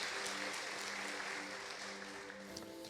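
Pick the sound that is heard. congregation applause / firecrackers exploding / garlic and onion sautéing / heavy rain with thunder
congregation applause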